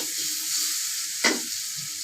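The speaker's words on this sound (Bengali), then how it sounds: "জিরা এবং পেঁয়াজ ও চিংড়ি মাছ ভাজা" Shrimp fry in oil with cumin and onion, a steady close hiss of sizzling with one sharp spatter burst partway through, no voices over it.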